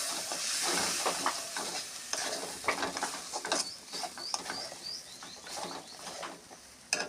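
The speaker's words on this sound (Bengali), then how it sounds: "এবার আমি পেস্ট করা ডালগুলো দিয়ে দেবো। দিয়ে ভালো করে ভেজে নেব।" Ground lentil paste for dal puri fries in a pan with a broad, continuous sizzle and scraping stirs, while birds chirp faintly in the background.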